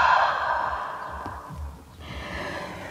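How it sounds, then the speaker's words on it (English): One long, open-mouthed breathy exhale during a yoga breathing exercise, loud and close at first, then trailing off before a quieter breath follows. "open the mouth wide as you exhale"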